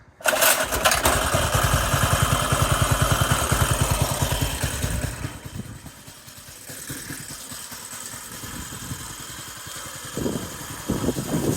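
A Predator-engined minibike runs loud and close, its small single-cylinder engine chugging in a fast steady beat, then easing to a lower idle before revving slightly again.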